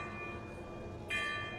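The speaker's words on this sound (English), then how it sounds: "autonomous bells, is that what you call them?" Automaton bells above a jewellers and bakers shop in Gloucester ring out faintly with a sustained metallic tone that swells in brightness partway through, heard over steady street noise.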